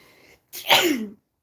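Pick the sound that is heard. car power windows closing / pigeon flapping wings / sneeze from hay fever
sneeze from hay fever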